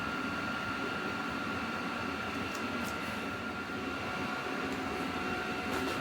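A CNC machine cutting pet leash hooks hums and whirs in a loud, steady drone, with a constant tonal whine and faint higher ticks throughout.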